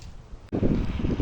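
Wind gusts outdoors on a cold, rainy day while someone waits for a bus. After a soft start, a sudden low rumbling buffet of wind hits the microphone and continues.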